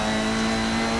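A race car engine held at full throttle, a steady, loud sustained drone with a strong constant tone and no letup.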